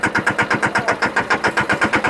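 A Mahindra mini tractor engine runs steadily nearby in high range and first gear, giving a rhythmic, pulsing chug of about seven beats per second that stays even and fairly loud throughout.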